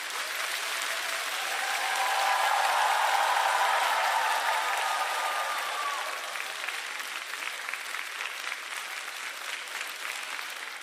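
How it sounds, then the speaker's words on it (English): An audience cheers and applauds, a broad wash of clapping that swells to a peak and then settles into steady applause that keeps going to the end. "Big cheer, big round of applause, chat."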